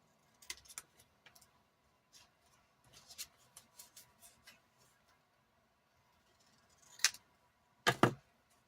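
Scissors snip scrap paper into smaller black and yellow pieces: a quiet scattering of short, crisp cuts, then two louder snips close together near the end.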